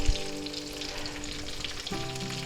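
Thin beef milanesa steaks fry in hot oil with a steady, dense sizzle and crackle, close and continuous, with a brief clatter near the start and a slight shift in the hiss toward the end.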